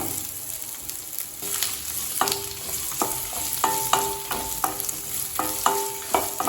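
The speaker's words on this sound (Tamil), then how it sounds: "வெங்காயத்தை நல்லா வதக்கிக்கலாங்க." Onions sauté in a pan with dried red chillies for peanut chutney, a steady sizzle under repeated rhythmic scrapes and clinks of a spatula against the pan, close up, with no speech.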